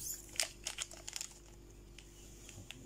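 A red yeast coffee sachet is torn open and snipped, giving a few quiet, brief crinkles and crisp packet rustles in a near, otherwise hushed room.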